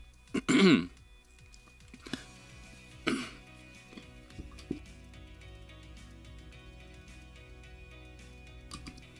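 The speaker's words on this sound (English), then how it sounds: "I had to clear my throat there" A single loud throat clearing near the mic, followed by a softer second clear and a few faint clicks in an otherwise quiet room.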